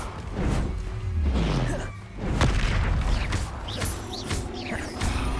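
Repeated Confringo blast spells burst in Hogwarts Legacy, heavy crashing booms and thuds layered over dense game effects and ambience, several impacts close together with no clear pauses.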